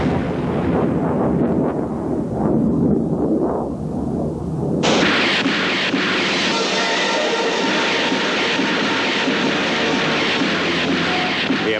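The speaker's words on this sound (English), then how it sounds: "Secondary explosions indicated that Viet Cong ammunition dumps had been hit." Heavy rumbling explosions from aerial bombing in the Vietnam War roll on continuously, muffled at first and then harsher and brighter, like a barrage of distant blasts on an old recording.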